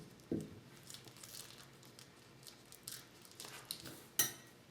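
Knife slicing a thin strip from a fruit roll-up on a Rice Krispie treat candy sushi, faint close crinkling and sticky peeling with a few sharp taps of the blade, no talking.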